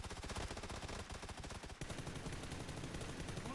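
Rapid gunfire in the PUBG battle royale game, a dense, loud burst of repeated shots firing continuously with a brief break partway through.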